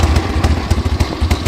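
A 1977 Harley-Davidson XLCH1000 Sportster with its original exhaust runs loud and close, its engine thumping in a lumpy, uneven idle rhythm.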